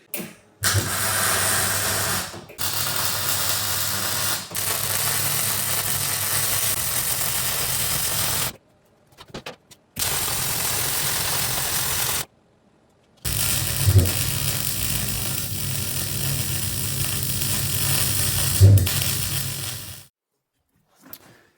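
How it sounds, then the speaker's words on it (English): Electric welding on a broken bale trailer in a workshop in Finland, steady loud crackling and hissing bursts of several seconds each, separated by abrupt silent pauses, close by with no voices. "But let's try to weld it."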